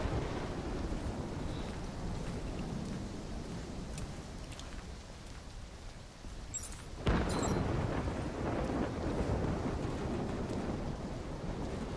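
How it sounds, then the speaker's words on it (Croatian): Superstorm in Call of Duty: Black Ops III: steady roaring wind and rushing water fill the whole stretch, with a brief burst of higher hiss midway and a louder surge after it. "Superstorm's winds are gonna hit harder as we move to higher ground."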